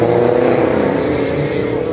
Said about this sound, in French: 67 sera suivi par la Renault 5 GT Turbo numéro 39.